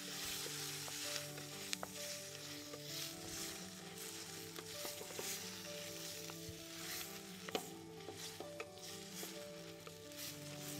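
Red, green and yellow peppers and other vegetables sizzle steadily in a hot pan while being stirred, a continuous close frying hiss broken by occasional light scrapes and clinks, with no voices.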